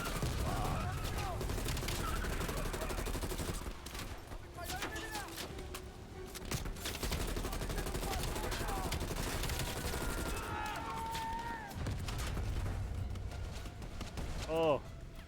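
Gunfire in the Call of Duty Black Ops Cold War campaign: rapid shots and bursts crackle throughout, mixed with game effects, with people talking over the action.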